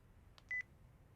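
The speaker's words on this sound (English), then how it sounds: "I got scared and hung up the phone." A single short telephone keypad beep or dial tone from the visual novel game Chaos;Head NoAH, heard once, faint and alone with no talk.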